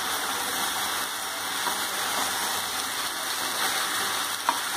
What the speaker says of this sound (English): So now see, once we'll open and we'll stir it